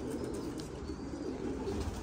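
Pigeons cooing on a rooftop, soft low repeated coos under steady background noise, fairly faint and continuous.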